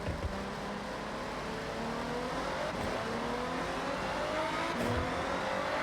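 A car drives steadily in Forza Horizon 6, with a continuous engine drone and rising and falling gear sweeps at fairly even loudness, and no talk over it.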